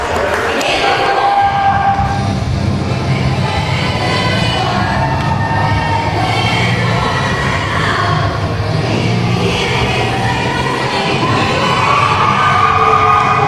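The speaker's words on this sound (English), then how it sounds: "Listen to that crowd." A wrestling crowd roars and shouts continuously in an arena, loud mixed cheering and voices layered with whoops, with a commentator talking over it.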